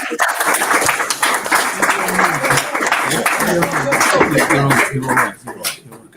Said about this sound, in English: Can you give a round of applause, please?